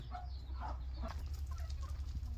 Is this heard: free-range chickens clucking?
yes